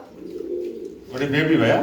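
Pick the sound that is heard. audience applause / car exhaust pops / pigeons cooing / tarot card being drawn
pigeons cooing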